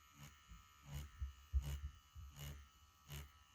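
A Bronc V1 wireless tattoo pen machine run at a low 5 volts with a standard 9 round liner stipples in a slow, regular pulsing buzz, about five even bursts, close and fairly quiet.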